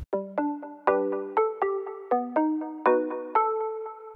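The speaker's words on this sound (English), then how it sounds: "I have this other pluck that is from Nexus." A bright saw pluck synth preset from Nexus plays a short melodic phrase of about a dozen crisp, quickly decaying notes in a steady rhythm, clean and up front with nothing else underneath.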